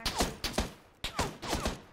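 Several sharp gunshots ring out in PUBG, arriving in two quick bursts of roughly three shots each with short echoing tails, moderately loud and with no talking over them.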